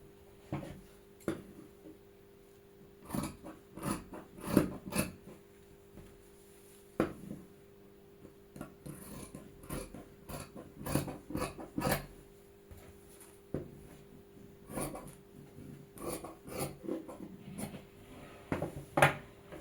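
Scissors cutting through folded fabric for a newborn's baby frock make quiet, irregular crunching snips and soft rustling scrapes on a work surface, close and unhurried with no talk.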